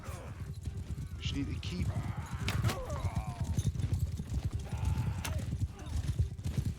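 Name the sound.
horse galloping in the video game Mount & Blade 2 Bannerlord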